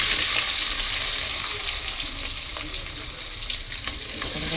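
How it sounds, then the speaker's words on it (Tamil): Onions hit hot oil in a pan for a garlic tamarind kuzhambu, giving a loud, close, rushing sizzle that almost sounds like running water. It eases slightly, then swells again near the end, with no voices. "வெங்காயத்தை போட்டுட்டேன்."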